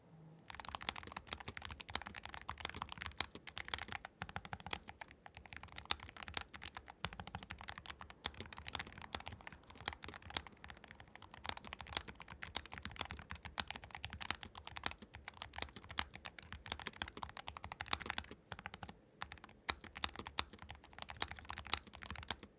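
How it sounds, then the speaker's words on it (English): Steady, fast typing on a low-profile Nuphy Air60 HE Hall effect keyboard, a dense stream of crisp key clacks with brief pauses, close and alone with no talking. "Let's get a typing test in and get some good typing sounds."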